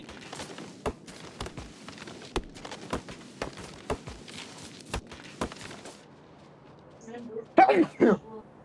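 Near the end a person sneezes sharply once or twice, loud and close, after a stretch of quiet mouse and key clicks at a desk.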